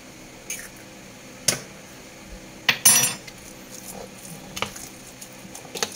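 Utensil clinking and scraping against a bowl while a raw egg is mixed in with salted ingredients for meatballs, a few sharp taps and short stirring bursts, close and fairly quiet.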